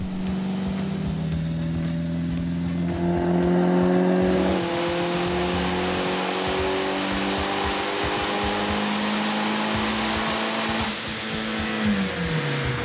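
A turbocharged car engine running boost at 21 pounds on the wastegate roars through a full-throttle pull, its pitch climbing steadily, with a shift-like step partway and a high turbo whine rising over the loud continuous drone.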